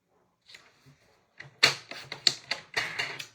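A paper trimmer slices through a sheet of cardstock being cut down for a 6x6-inch scrapbook layout: a few soft ticks, then a quick run of sharp, close clicking and scraping bursts as the blade travels along, with no talking.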